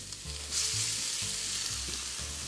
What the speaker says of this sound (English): It's very important when we sear our meat that we have a nice hot pan.